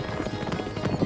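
Hooves of a fast-galloping horse clatter in quick, uneven beats, fairly close and moderately loud, with no talk over them.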